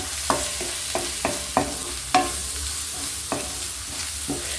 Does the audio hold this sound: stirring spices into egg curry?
yes